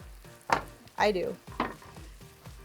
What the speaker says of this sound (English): Oh! It is sizzling.